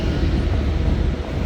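Avanti train passing through Crewe station, a loud, steady, broad rumbling roar with heavy low-end weight that fills the entire short stretch at close range.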